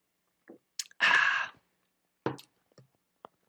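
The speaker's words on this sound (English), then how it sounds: "I need some sip of water, lemon water here." Someone sipping lemon water close to the microphone: a few short lip and mouth noises, one longer slurping sip, then quieter swallow and clicking sounds, with no talking.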